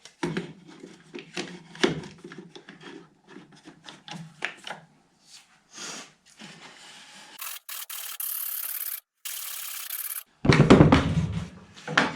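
A wooden block for guitar kerfed lining is beveled by hand in short rasping, rubbing strokes, close and moderately quiet, broken by pauses and a few longer bursts of harsher scraping.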